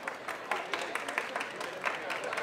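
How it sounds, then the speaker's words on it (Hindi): An audience at an Indian entertainment event claps in a loose, uneven wave, with individual sharp claps standing out over a continuous patter, and some voices mixed faintly underneath. "एक बार जोरदार तालियां इन सब के लिए हो जाए।"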